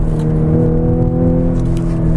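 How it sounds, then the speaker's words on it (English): A 2014 Audi S4 accelerating hard, with a loud, steady engine drone and rising harmonic whine heard from inside the car, no talking over it. "It is just so quick to accelerate when you put your foot down."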